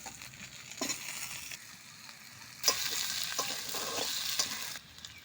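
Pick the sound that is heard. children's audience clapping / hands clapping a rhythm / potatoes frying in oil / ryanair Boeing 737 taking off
potatoes frying in oil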